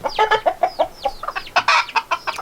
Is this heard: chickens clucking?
yes